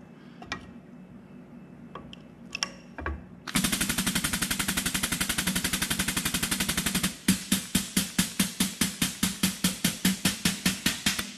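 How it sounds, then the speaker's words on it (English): A Harbor Freight Holt automatic air grease gun pumping grease through a locking coupler, first a few scattered clicks, then a rapid, loud, steady mechanical rattle that gives way to slower, evenly spaced pneumatic bursts. "Okay, so it's shooting grease out."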